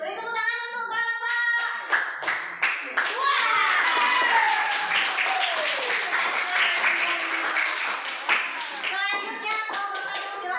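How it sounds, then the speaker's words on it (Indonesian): Applause and clapping from a group of schoolchildren in a classroom, starting with a few scattered claps and swelling into sustained clapping, with children's voices mixed in. "Beri tepuk tangan untuk kelompok."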